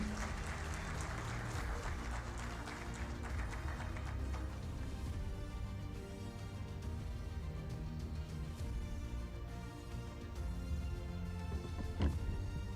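Faint, steady applause at a Smart City meet-up follows the introduction of a sales and marketing director. Quiet, continuous clapping carries on for several seconds with a constant low background hum.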